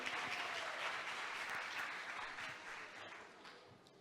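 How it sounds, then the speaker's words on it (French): An audience at a talk show presenting a Miss BPX 2018 contestant applauds, a dense, steady clapping that slowly fades over a few seconds, heard from a distance and fairly faint. "Sous vos applaudissements, s'il vous plaît."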